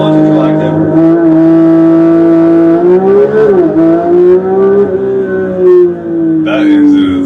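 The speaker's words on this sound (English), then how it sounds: "hold your foot hard on the brake, hit the throttle, launch control active" A Porsche 911 GT3 with a PDK gearbox and flat-six engine holds steady revs under launch control, then surges as the pitch climbs through the run. Loud and close, with a voice talking over parts of it.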